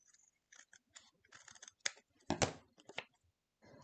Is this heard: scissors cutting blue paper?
yes